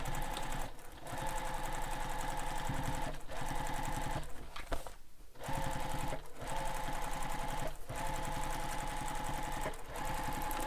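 A sewing machine runs a straight line of stitching down the center of a backpack pocket to divide it in two, a fast steady whir with a few brief stops in between, clear and close.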